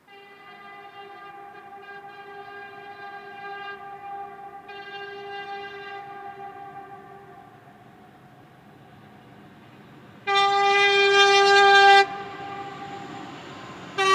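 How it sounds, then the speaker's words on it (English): SBB Class 843 diesel locomotive train passing near the Swiss border, with a steady rolling hum and a sustained tonal horn, followed by a louder, brighter blast of the horn before it fades slightly. "preliminary testing of the GSMR signalling system was carried out using SBB Class 843 diesel locomotives"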